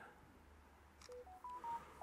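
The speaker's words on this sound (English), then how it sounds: "Oh, the phone's going mad today." Telephone keypad beeps: a series of steady electronic tones after a quiet start, clear and fairly close in a workshop while garden secateurs and knives are being cleaned.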